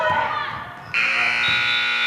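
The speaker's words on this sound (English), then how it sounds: "Buzzer sounds before the Cards can get a shot off." A halftime buzzer blares in a high school girls' JV basketball game in a gym: one loud, steady electronic tone starts abruptly and holds to the end over faint crowd noise.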